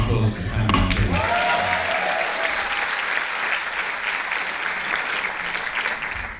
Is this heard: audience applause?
yes